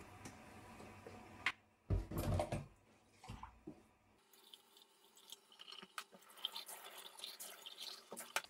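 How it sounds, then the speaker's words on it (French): A ceramic cup being washed by hand with dish soap and water to remove tea stains: drips and splashes, wet squishing and scrubbing, and a few light knocks, fairly quiet and close. "je vais nettoyer avec le liquide vaisselle"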